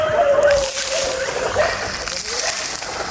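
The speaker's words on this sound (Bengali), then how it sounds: "খুবই সুন্দরভাবে জলটা মারছে, দেখো।" Water fountain under repair spraying hard, a steady close rushing splash with broadband spatter that runs throughout, while a voice talks over it.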